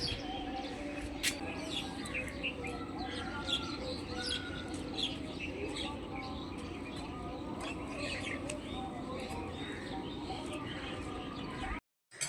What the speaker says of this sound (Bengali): পাখির আওয়াজ কিন্তু হতেই থাকে